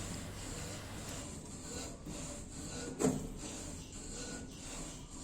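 An oiled steel gate latch bolt slides in and out, giving faint scraping and rubbing with one sharper metallic clack partway through, close by over a steady background hum.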